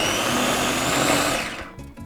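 Kitchen blender whirring steadily and loudly up close while blending a sauce of olive oil, black pepper and a little water, then winding down and cutting off near the end.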